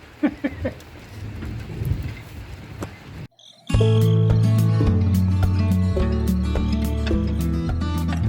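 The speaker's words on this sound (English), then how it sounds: "here comes the rain pretty hard" Heavy thunderstorm rain pounds down near the microphone, first as scattered drops and rumble, then after a brief silence as a loud, dense, continuous downpour over a tractor-shed setting, no voices.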